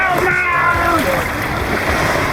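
Splashing water at the Runaway Rapids ride in a water park, a loud rush and spray close by, mixed with excited voices and shouting.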